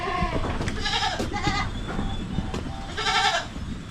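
Goats in an old pen bleat repeatedly, several loud, wavering calls overlapping one another close by, with no talk.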